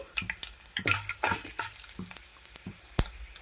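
Dried red chillies fry in hot oil with a light crackling sizzle and repeated spoon scrapes and taps against the pan, close and moderately quiet.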